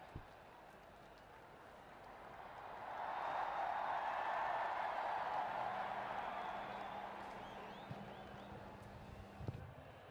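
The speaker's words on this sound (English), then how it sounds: "Please give him Namaste, Trump. a round of applause" A large stadium crowd at the Namaste Trump event in Motera Stadium, India, breaks into applause for Donald Trump, a broad wash of clapping and cheering that swells, holds and slowly fades, heard from a distance.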